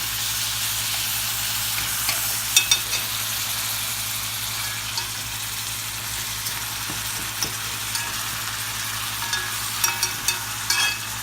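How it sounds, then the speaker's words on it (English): Onions caramelizing in a pan for beef short ribs, a loud, steady frying sizzle with low background hum and a few faint clinks or stirring touches, with no voices. "the onions are caramelizing"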